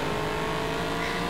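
A race car in the DTM Race Driver 3 video game accelerates, giving a dense, continuous engine roar that stays loud and steady throughout the short moment.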